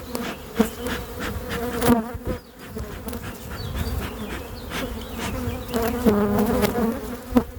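Honey bees buzz around an open hive during a beekeeping inspection, a dense close swarm hum with individual bees whizzing past the microphone, loud and continuous with occasional clicks.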